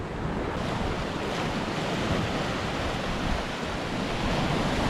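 Waves wash steadily onto a small, deserted beach of tiny eroded pebbles in Sardinia, a dense continuous roar of surf with wind buffeting the microphone.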